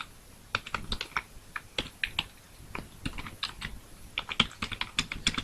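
Fast, irregular typing on a computer keyboard while C code is being entered, crisp close keystrokes in quick bursts with brief pauses, alone without talk.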